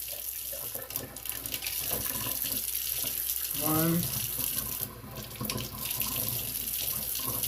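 Tap water runs steadily from a kitchen faucet into a dish while measuring water for a broccoli beef marinade, a continuous close splashing hiss with a brief trickling change midway and a short spoken word.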